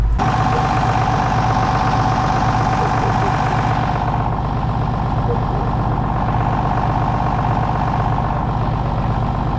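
A John Deere tractor engine idles loudly and close up in a steady, throbbing diesel rumble on a wet winter field before ploughing, with a faint voice underneath.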